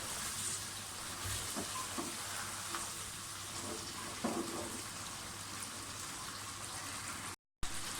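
Goat trotters sauté in oil for mutton paya, giving a steady soft sizzle and crackle with occasional stirring clatters, fairly quiet and free of speech.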